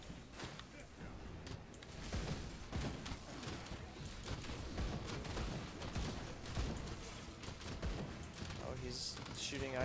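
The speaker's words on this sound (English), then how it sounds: "Shooting ice from above. Shooting back with poison." Combat in the Grim Dawn game, Forgotten Gods: rapid gunfire exchanges mixed with ice and poison attack effects, a dense stream of sharp crackling impacts at fairly low level that runs throughout.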